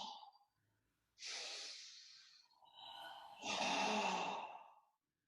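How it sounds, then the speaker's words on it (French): Slow abdominal breaths during a yoga session: a long exhale, then a deeper inhale and a strong audible sigh-like exhale, close and clear with brief silence between. "on fait 3 respirations abdominales."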